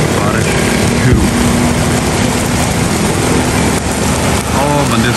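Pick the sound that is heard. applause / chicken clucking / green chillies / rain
rain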